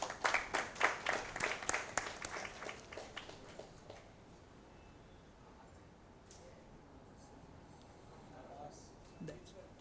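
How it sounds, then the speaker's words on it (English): An audience at a banking and finance conference applauds as a minister joins on screen: a dense burst of clapping that is loud for the first few seconds, then thins out and fades to quiet room tone with a few faint, scattered noises. "Please give a round of applause."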